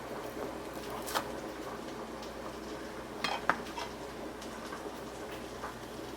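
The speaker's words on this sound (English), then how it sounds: "let's cut this guy in half" A knife cuts through a chicken meatball on a plate, giving quiet scattered clinks and taps of cutlery on crockery, with a small cluster of sharper scrapes midway.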